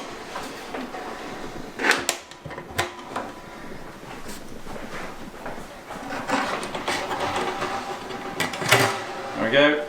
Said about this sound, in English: Let's take the lid clamps off.